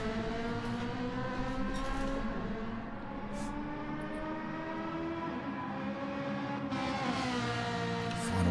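Ferrari race car engine in a racing video game, one car completing a lap alone, with steady loud engine drone and harmonic pitch sweeps as it shifts and accelerates, rising again near the end.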